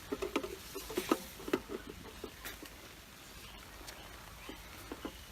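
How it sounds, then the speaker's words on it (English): Rain begins falling outdoors at a fishing lake: scattered, light pattering drops and taps, a little denser at first and then sparser and quieter, with no talking. "Trust the rain to start now."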